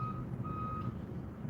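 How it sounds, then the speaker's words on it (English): A truck's reversing alarm beeps twice, long steady tones, faint and distant over a low engine rumble, heard from inside a car on a morning commute. "You're going to hear a truck backing up."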